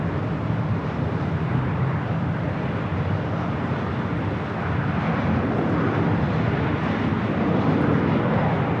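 An Airbus A380 takes off on the north side at LAX with a steady, broad jet roar that holds at even loudness throughout, heard from a distance.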